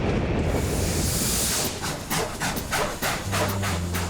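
Rail cars in a rail yard are slowed by hydraulic brakes built into the tracks, giving a continuous hissing, rubbing grind with a series of rhythmic pulses and a low hum creeping in near the end.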